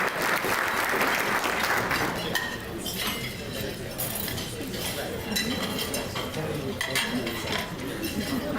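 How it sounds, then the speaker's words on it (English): A luncheon audience gives a sustained round of applause, loud and dense clapping throughout, with clinking glasses and cutlery mixed in and a voice speaking over part of it. "Just wanted to give her a round of applause"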